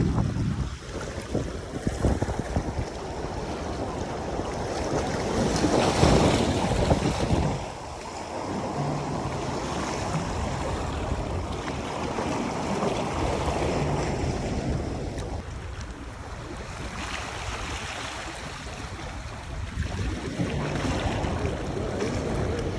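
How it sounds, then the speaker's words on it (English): Ocean waves surge and break on an Oahu shoreline in Hawaii, a continuous broad wash of surf rising and falling, heavily mixed with gusting wind buffeting the microphone. "And then the waves come."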